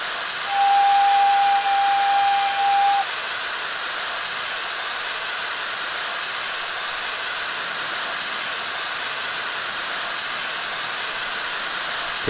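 Open cylinder cocks on an S&DJR 7F 2-8-0 steam locomotive in Train Simulator Classic give a loud, steady, broad hiss of escaping steam. A thin whistle-like tone sits on top for the first few seconds, then the hiss carries on alone.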